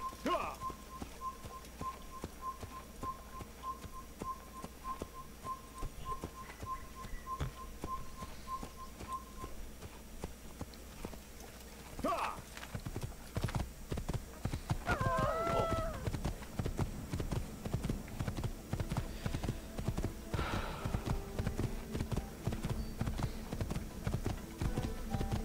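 Horse hooves clip-clop in the Assassin's Creed video game, a steady, fast rhythmic patter that grows louder and busier in the second half, joined by a faint whistle-like tone early on and a brief neigh.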